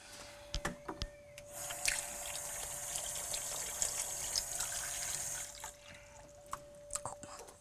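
Water is poured indoors, a soft trickling and splashing stream running for several seconds with scattered clinks and knocks around it, fairly quiet and without speech.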